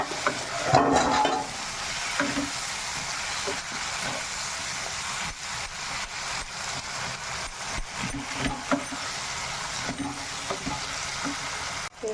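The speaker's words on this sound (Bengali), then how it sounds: "একটু মশলাটা ভেজে নিচ্ছি" Spices with ginger paste fry in a pan for a capsicum, potato and paneer dish, giving a steady moderate sizzle with stirring scrapes and a brief louder clatter near the start.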